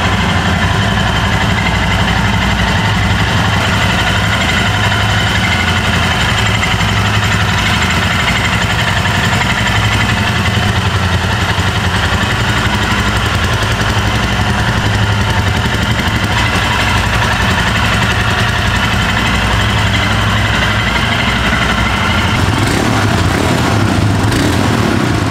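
A Royal Enfield Himalayan motorcycle engine idles steadily and loudly close by, a continuous low throbbing rumble with no breaks.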